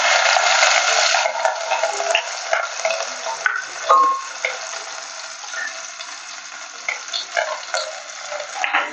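Asafoetida and ginger-chili paste fry in a pan with a loud, bright sizzle at first that gradually softens and turns uneven, broken by small crackles and spatters close by.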